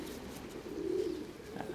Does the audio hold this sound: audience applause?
no